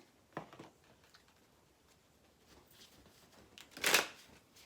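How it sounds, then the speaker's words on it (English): Quiet paper-like flicks and riffles of tarot cards being shuffled, a couple of soft bursts early and a louder riffle near the end, otherwise near silence. "So let me shuffle these up real well."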